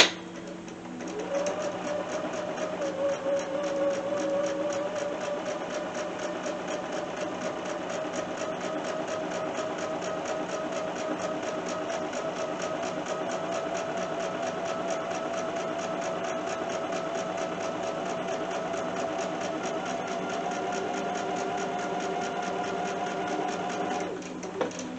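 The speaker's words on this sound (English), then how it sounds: "I have my machine set up to stop with the needle down." A Bernina sewing machine stitching a quilt block at a steady speed, with a continuous even motor whir and a rapid needle chatter held close and unbroken for about twenty-five seconds, no talking.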